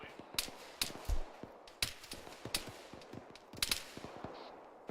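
Gunfire crackles during a military field training exercise, several sharp shots at irregular intervals with a dull thump among them, mid-distance over a steady outdoor background.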